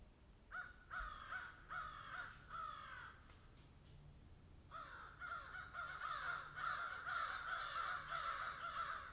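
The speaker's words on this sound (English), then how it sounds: "the sound of crows cawing" Crows caw repeatedly in harsh bursts, one group then a pause before more cawing resumes, fairly distant over faint background noise.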